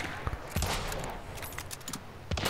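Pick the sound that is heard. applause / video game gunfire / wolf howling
video game gunfire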